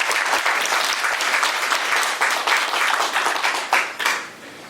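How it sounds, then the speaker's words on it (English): A room full of people at a Stonecrest Business Alliance forum applauds six candidates, with dense, steady clapping that holds for several seconds before thinning and fading at the end. "Let's give them a round of applause before we start"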